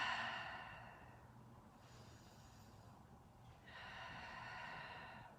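Soft breaths, a long exhale during a Pilates and yoga core workout, quiet and close, in two airy hissing waves with a faint pause between.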